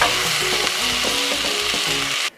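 Vegetables are stirred in a hot pan over a steady, close sizzle, with spoon or spatula scrapes repeating at a loose rhythm; the frying noise cuts off sharply near the end.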